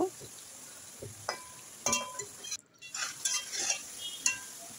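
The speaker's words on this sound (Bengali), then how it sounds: "এরপর আমি মাছটাকে খুব ভালো করে উল্টিয়ে পাল্টিয়ে মাছটাকে আমি কষিয়ে নেব" Snakehead fish frying in hot oil in a home kitchen, turned over with a spatula: sizzling with intermittent scraping and clinking against the pan, moderately close and irregular, no talking.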